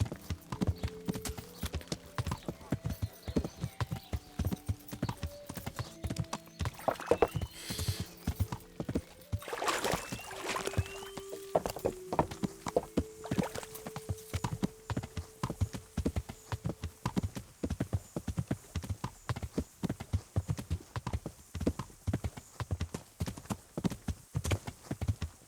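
Horse hooves clip-clopping in the medieval game Kingdom Come: Deliverance, a steady rapid trot of footfalls continuing throughout at moderate volume, with a few faint tones and a whoosh partway through.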